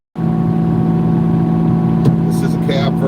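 A Kubota LX2620 HSDC cab tractor runs at a steady loud drone while plowing more than a foot of fresh snow, with a brief clank near the end and people talking faintly.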